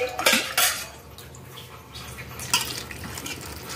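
A vessel of rice flour batter is set down in a kitchen with a few short, sharp clinks of metal, the loudest two close together near the start and another a couple of seconds later.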